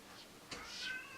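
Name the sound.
cat meowing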